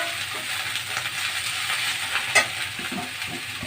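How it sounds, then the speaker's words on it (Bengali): Mixed leafy greens frying in a pan give a steady, close sizzle with soft stirring scrapes and one brief sharp clink partway through. "পাঁচমিশালি শাক ভাজি"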